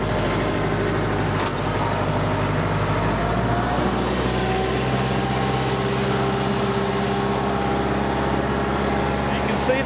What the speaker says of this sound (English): Now that the tractor's in the furrow, the plow is back level.